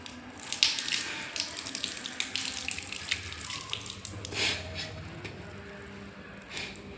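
Tap water runs continuously into a sink during wudu ablution while the nose is rinsed, with close splashing, gurgles and uneven spatters of water hitting hands and basin.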